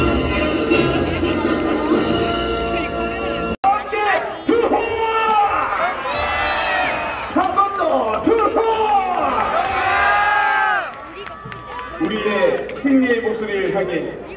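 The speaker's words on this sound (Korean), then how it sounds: "박수와 함성" Stadium crowd at a K League 2 season-opening Nakdong derby football match between Gyeongnam FC and Busan, raising a loud, sustained roar of cheering and shouting voices that swells and dips, with some applause mixed in.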